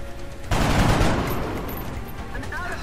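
Gunfire in XCOM Long War erupts as a sudden loud burst of rapid shots, then trails off into a noisy rumbling decay, with game sounds continuing underneath.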